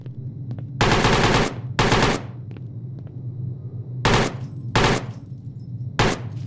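AK rifle fired in the video game PIGFACE, five loud close bursts of rapid automatic shots in an uneven rhythm, separated by short pauses over a low steady hum.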